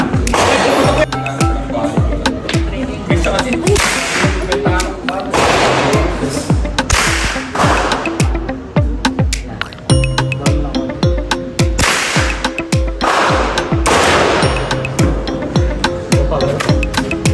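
Rapid bursts of loud gunfire crack repeatedly at a shooting range, some in fast strings, with echoing reports and occasional voices in between.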